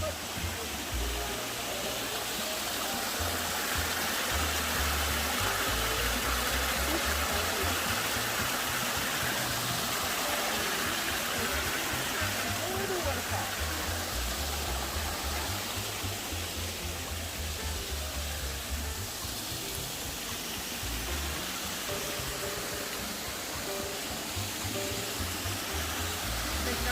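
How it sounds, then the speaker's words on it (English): Seminole Falls waterfall at Rainbow Springs, Florida, a constant rushing roar heard from a walking trail, steady and fairly loud throughout, with a low engine-like hum beneath it and occasional faint voices. "And we'll be quiet so you can hear the falls."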